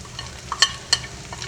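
Salt, black pepper, crushed coriander, cumin and chili sauce frying in a pan for egg fried rice, a steady close sizzle broken by two bright metallic taps of a utensil on the pan.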